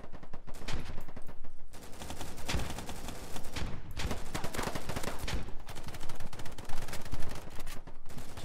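Gunfire in the video game Polygon, dense bursts of automatic and single shots crackling loudly and almost continuously, with short gaps between volleys.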